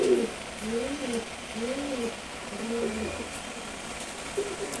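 A newly mated pigeon pair, a Chila male and a Giachulli female, coo softly in a slow, repeated rolling rhythm, with about four low purring calls over quiet room noise.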